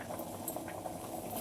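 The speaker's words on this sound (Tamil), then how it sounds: "இந்த சைடு பார்த்திங்கன்னா முட்டை வெந்துட்டுருக்கு" Eggs simmer in a pot of water on the stove, a soft, steady bubbling that stays faint and even with no voices.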